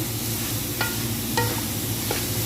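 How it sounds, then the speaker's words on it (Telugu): Puffed rice fries in a pan with a soft continuous sizzling hiss under a low steady hum, broken by two or three brief clinking scrapes of a spoon against the pan. "ఇలా ఫ్రై చేసుకుంటే చాలా బాగుంటుంది ఫ్రెండ్స్"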